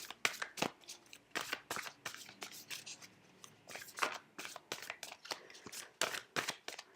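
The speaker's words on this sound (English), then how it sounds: "as I'm shuffling your cards" Tarot cards are shuffled in quick, crisp bursts of riffling and flicking, close and fairly quiet, with short pauses between runs.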